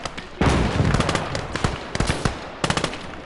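Heavy gunfire during a counterattack in the World War II game Gates of Hell: sustained rapid machine-gun bursts mixed with sharper individual shots and booming reports, loud and close with a few brief pauses.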